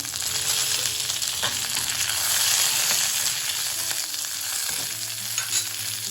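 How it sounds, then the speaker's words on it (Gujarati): Dried red chillies and fresh curry leaves crackle and sizzle steadily in hot oil with mustard seeds for an idli chutney tempering, a loud continuous frying hiss with occasional pops and a utensil clink. "ત્યાર પછી હવે આપણે લાલ સૂકા મરચાં એડ કરીશું ત્યાર પછી આપણે ફ્રેશ કઢી પત્તા એડ કરીશું"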